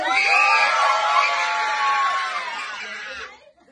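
A gender reveal party crowd, Team Boy side, shouting and cheering loudly together in one sustained, excited burst of mixed adult and children's voices that fades out at the end.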